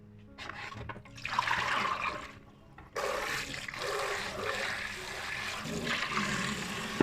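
Pork ribs rinsed under running water in a kitchen, a steady gushing flow with a brief lull before a louder, sustained rush of water continues to the end.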